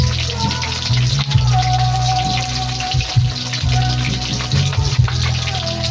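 Tilapia fries in a hot pan of oil, a steady loud sizzle and crackle that runs throughout with small pops and spatters, close by and uninterrupted.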